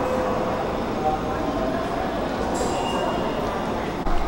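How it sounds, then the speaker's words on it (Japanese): A special rapid train pulls out of Maibara station, heard as a faint, steady rolling rumble along the platform, with a brief high squeal and a few clinks. "ホームに戻ってきたらちょうど新快速が出てくところでして"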